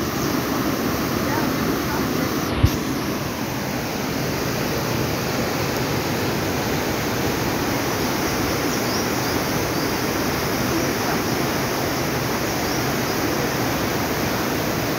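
After rain, floodwater rushes past a footbridge and its pillars as a loud, constant broadband roar with a single brief knock near the start, and no voices are heard over it.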